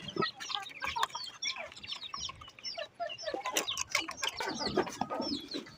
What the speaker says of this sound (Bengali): এই যে আমার কোয়েল পাখিগুলো